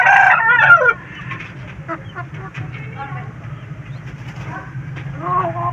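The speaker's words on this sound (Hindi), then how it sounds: "लड़ने वाला मुर्गा है" A fighting rooster crows loudly up close at the start, then follows with softer clucks and calls over a low steady background hum.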